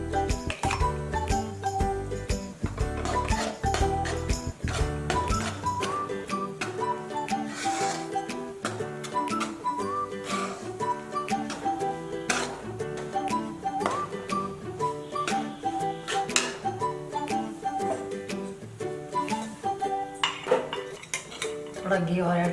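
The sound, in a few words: wheat flour stirred into hot ghee in pan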